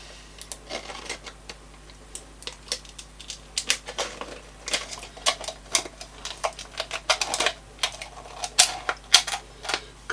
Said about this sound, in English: so we're going to try and cut along that line there